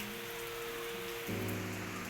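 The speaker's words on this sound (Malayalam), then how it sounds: "നല്ല മഴയാണ് കേട്ടോ" Heavy rain pours down in a steady, unbroken wash of noise, fairly soft and distant, with a low hum running underneath and no one speaking.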